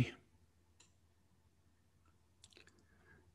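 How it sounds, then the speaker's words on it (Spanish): A few soft, sharp clicks spaced apart in a quiet room, like a computer mouse button being pressed, with no talking. "Lo selecciono, le doy clic en OK."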